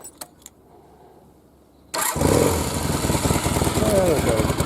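A 1982 Honda CB450SC Nighthawk motorcycle cranks and fires about halfway through, after a quiet stretch with a few small clicks, then settles into a loud, close, steady idle.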